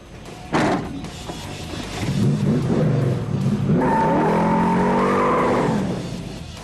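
A Dodge Challenger convertible muscle car with a Hemi engine revs hard and its tires squeal loudly and continuously as it lays rubber, the screech rising and holding for several seconds up close.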